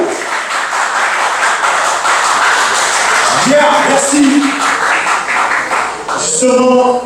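An audience claps in a dense, steady burst of applause at a Thursday acoustic gathering, with voices talking over and between the clapping.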